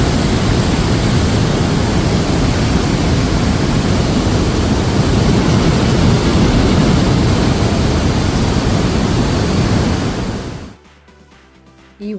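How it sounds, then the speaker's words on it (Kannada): Trümmelbach Falls near Lauterbrunnen, a powerful waterfall thundering inside a mountain, produces a loud, unbroken roar that fills the space close by, then cuts off abruptly near the end. "ಈ ವಾಟರ್ ಫಾಲ್ಸ್ ಇಷ್ಟು ಪವರ್ಫುಲ್"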